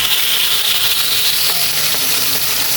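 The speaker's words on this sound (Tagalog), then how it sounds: "Magpiprito na po kami ni Mama." Oil sizzles and crackles steadily in a pan as food fries outdoors, a dense, continuous hiss with occasional pops, close and loud with no talk.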